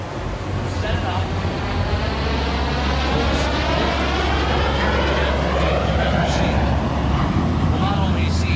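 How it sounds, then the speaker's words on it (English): A T-33 Shooting Star jet flies 6G turnarounds at the Pacific Airshow, its loud, continuous engine roar sweeping up and down in pitch as it banks and passes. "Watch him as he has these 6G turnarounds in the T-33."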